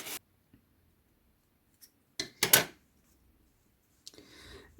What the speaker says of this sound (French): Et je vais couper le fil.